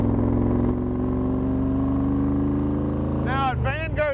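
A 1965 Shelby Cobra drives along with a steady, throaty engine drone heard close and loud, and a voice breaks in near the end.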